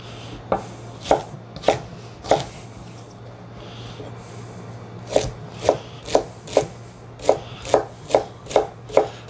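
A knife chops celery on a cutting board in sharp, crisp strokes, starting with a few spaced cuts, pausing, then speeding into a quick, even run of about a dozen close chops.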